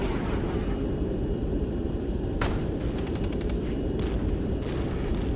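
Gunfire and aircraft attack in the war strategy game Regiments, with a sharp burst and a rapid series of cracks over a loud, constant roar of battle.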